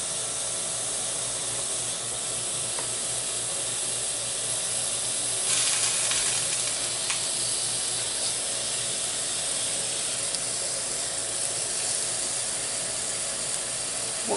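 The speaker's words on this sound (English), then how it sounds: "Get our pork chops in." Pork chops fry in a pan, giving a continuous, even sizzle and hiss with a brief louder spitting burst partway through and no talk.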